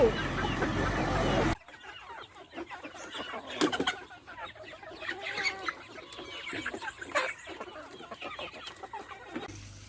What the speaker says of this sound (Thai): อันนี้ไก่ตัวเมีย อันนี้ไก่ตัวผู้